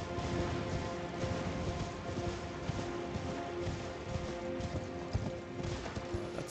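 Horse galloping in the video game Elden Ring, a fast continuous clip-clop of hooves under a dense layer of game noise, steady and fairly faint throughout.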